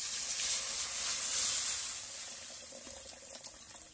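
A steady stream of hot water pouring and hissing into a pan of fish curry masala, loud and close, easing off toward the end with a small clink.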